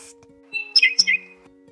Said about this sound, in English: baby birds in the nest